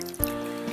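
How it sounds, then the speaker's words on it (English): Homemade buttermilk pouring off through a lid, a brief close liquid splash and trickle after churning butter. "I'm going to pour the buttermilk off."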